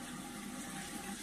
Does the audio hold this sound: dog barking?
no